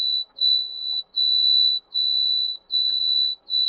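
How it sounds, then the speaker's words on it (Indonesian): An IoT smart lock security system's intrusion alarm sounds after the door is forced open without authentication: a loud, steady high-pitched electronic beep repeating in long pulses separated by short gaps, with no talking. "mengaktifkan alarm"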